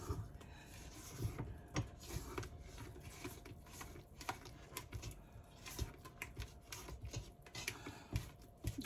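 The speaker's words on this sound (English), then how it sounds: "I'm going to scrape down my sides" Spatula scraping buttery dinner roll dough down the sides of a mixing bowl, a soft continuous rubbing and rasping with repeated strokes, quiet and close with no talk.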